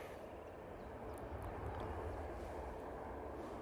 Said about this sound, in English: 737-800, just departing.